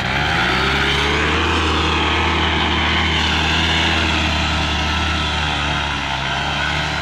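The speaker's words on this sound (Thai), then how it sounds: "เร่งเครื่องไปเร่งเครื่องวิ่งไป" A powered paraglider's engine revs hard for takeoff as the wing is raised, a loud, steady propeller drone with a rising pitch that holds without a break.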